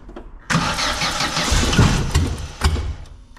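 A Vauxhall Nova's engine roars up and revs hard close by, holding a loud, rough, sustained drone with a brief surge near the end before easing off.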